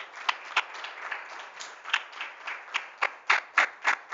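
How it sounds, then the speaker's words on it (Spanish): A church congregation applauding, with scattered individual claps and sharp louder hand strikes standing out in an irregular, loose rhythm over a softer wash of clapping, fairly close and with no voices. "Fuerte aplauso a nuestro Señor."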